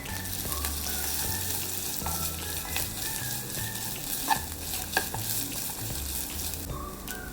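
Grated coconut and onions sizzle steadily in a hot pan for a Kerala pumpkin and red cowpea erissery curry, with a spoon stirring and scraping now and then through the continuous frying.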